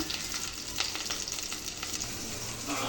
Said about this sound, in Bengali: প্রথমে আমি সরিষার তেল দিলাম তার ভিতরে পেঁয়াজ আর মরিচ দিয়ে দিলাম